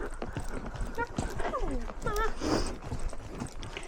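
Pony hooves clip-clop and splash through a shallow puddle outdoors on a ride, a brief wet burst rising among the steps while people talk over it.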